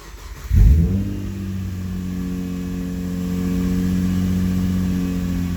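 A Subaru Impreza fitted with a swapped-in H6 engine cranks and fires after a brief silence, then settles into a steady, loud, close idle with a slight rise in revs toward the end.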